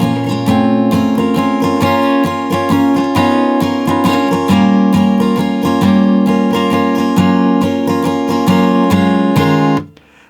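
An acoustic guitar strums chords for a song in a down, down, up rhythm, close and loud with crisp repeated strokes, before ringing out and stopping near the end.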